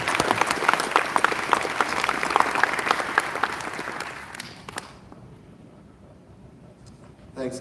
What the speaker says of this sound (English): a round of applause for everyone in the room who has contributed so much